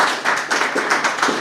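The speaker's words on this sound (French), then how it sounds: "Je pense que vous pouvez les applaudir." A brief burst of close, loud applause from a conference audience after a panel on urban logistics, with individual claps standing out in a quick, rhythmic patter.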